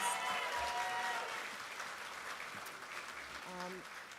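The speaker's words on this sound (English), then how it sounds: "Let's give them another round of applause" Applause for performers at the Schomburg Centennial Festival opening, sustained clapping that fades slightly, with a brief voice near the end.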